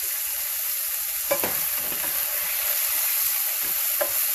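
Onion and peppers sautéing in a pan on medium heat give a steady sizzle and hiss throughout, with a few soft stirring clicks and scrapes.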